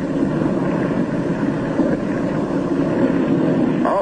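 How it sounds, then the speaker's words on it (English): A 1947 Antarctic expedition plane, its starboard engine cutting out and the remaining engine losing power, gives a loud, rough, continuous drone and rush that stays steady, with no speech. "His starboard engine is cutting out, now stops. His one remaining engine is losing power."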